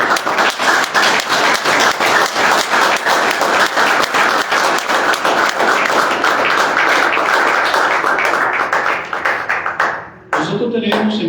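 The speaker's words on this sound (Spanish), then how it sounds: "Y vamos a tributarle en lo más profundo del infinito un aplauso a Miguel Aponte Viguera." Audience applause at a memorial tribute for a deceased journalist: loud, dense clapping from a full crowd sustained for about ten seconds, then fading abruptly, with a few voices emerging at the end.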